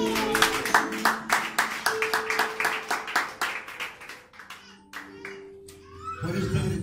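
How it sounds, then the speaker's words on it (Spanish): A church congregation at an evangelical service claps in steady rhythmic bursts, close and lively, with voices and music mixed underneath. "Puede sentarse dándole ese fuerte aplauso a Jesús."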